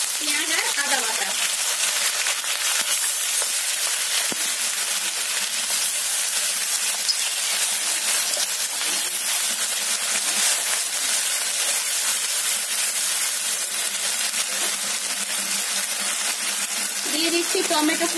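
Three whole green chillies and onion and ginger paste go into hot oil in a pan, giving a steady, loud hissing sizzle that holds throughout with light stirring clinks.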